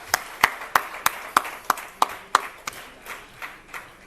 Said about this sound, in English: Ladies and gentlemen, big round of applause for Mr. Gunnar May.